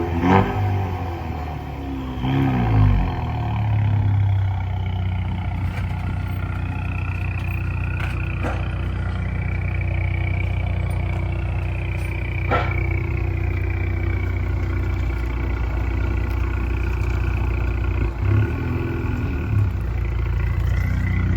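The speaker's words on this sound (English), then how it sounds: "Not bad, 4-cylinder turbo, 2016 Mustang." A 2016 Ford Mustang with a four-cylinder turbo engine and a deleted muffler runs steadily for the whole stretch. Its exhaust drones low and close, with a few brief blips of throttle along the way.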